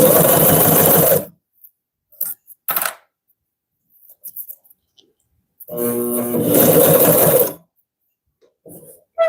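A Consew CP206RL industrial sewing machine stitches a handbag in two loud bursts, each about a second and a half long, with a few brief clicks and handling noises in the quiet gaps between them.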